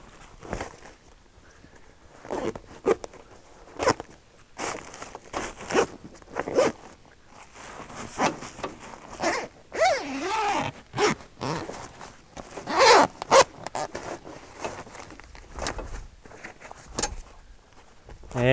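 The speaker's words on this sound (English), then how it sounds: "If one zip's a little bit difficult, just come in from the other end." Zip pulled along a hire pack-up tent bag in several quick rasping bursts, interspersed with fabric rustling and handling noises, close up.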